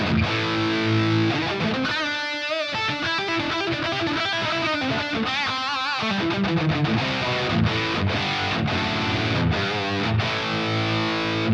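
An electric guitar plays through a modded Marshall amp tone on a ToneX plug-in, heavily distorted chords and sustained riffs ringing continuously and loud, with no voices.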